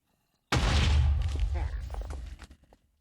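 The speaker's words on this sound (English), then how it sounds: "I recognize the sound of that explosion." A sudden loud boom that erupts and then rumbles and crackles as it fades over a couple of seconds, like a game explosion.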